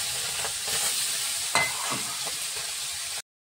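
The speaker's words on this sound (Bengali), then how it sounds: "চিংড়ি মাছটা নুন হলুদ মাখিয়ে রেখেছি, ভেজে দিচ্ছি।" Prawns marinated in salt and turmeric frying in a pan give off a continuous bright sizzle, with occasional crackles and stirring scrapes, before cutting off abruptly into silence.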